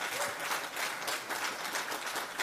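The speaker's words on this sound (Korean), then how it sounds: "박수 한번 보내주시기 바랍니다." An audience at a Democratic Party emergency action rally inside the National Assembly applauds, a dense, steady wash of clapping filling the whole stretch without a break.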